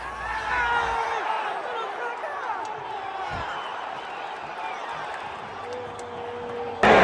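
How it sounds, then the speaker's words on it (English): A stadium crowd roars and cheers loudly and steadily at a Real Madrid versus Pachuca football match at the FIFA Club World Cup, with a sharp bang right at the end. "after the saves, the crowd went crazy"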